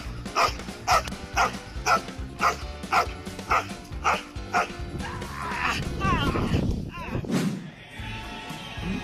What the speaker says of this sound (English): What a loyal dog.